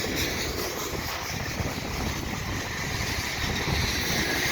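Strong wind sweeps across a railway crossing at Donagani Street, with a steady, loud broadband roar and rumbling gusts buffeting the microphone throughout. No voices are heard.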